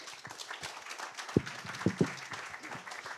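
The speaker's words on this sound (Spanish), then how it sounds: "Recibamos con un fuerte aplauso, por favor" Audience applause welcoming an archaeology lecturer at a talk on field excavation work, a steady wash of hand clapping lasting the whole moment, with a few sharper louder claps standing out near the middle.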